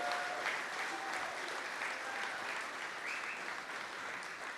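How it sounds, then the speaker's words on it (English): Steady applause fills a room at an MS keynote gala event, broad and sustained from a sizeable audience with no talk over it. "Let's give a huge round of applause to Shelly"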